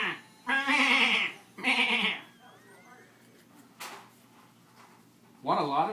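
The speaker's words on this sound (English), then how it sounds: "A goat goes." A goat bleats in two loud, wavering calls near the start, followed by quieter shuffling and a third bleat at the end, all close by.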